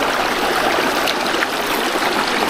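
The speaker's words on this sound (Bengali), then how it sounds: "পানির গর্জনটা একবার শুনুন ও মাই গুডনেস পানির কি গর্জন" River water at Sada Pathor in Bholaganj, Sylhet, rushes over stones in a loud continuous roar, close and unbroken, with no voices.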